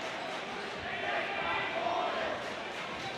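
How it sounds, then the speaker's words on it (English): Rival Rock Canyon and Highlands Ranch high school student sections in a cheer-off at a boys varsity basketball game, a dense, steady roar of crowd shouting and chanting filling an indoor gym. "The Rock Canyon and Highlands Ranch student sections there in a cheer off."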